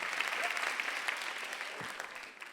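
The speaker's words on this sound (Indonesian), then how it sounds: "Tepuk tangan dong." A comedy-club audience at an Indonesian stand-up comedy competition gives a loud, sustained burst of applause, dense clapping that stays steady throughout and tails off slightly at the end.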